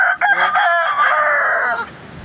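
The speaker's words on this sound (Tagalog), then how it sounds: "Mga manok oh." Chickens with a rooster crowing, heard in a storm-surge setting during a super typhoon; a single loud, close crow lasts about two seconds, with a quick cluck at the start, and no talk over it.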